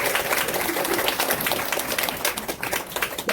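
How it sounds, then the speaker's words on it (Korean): Applause from an audience at a beauty class: dense, continuous clapping from a small crowd, close and fairly loud, tapering slightly near the end. "모델분에게 큰 박수 부탁드립니다."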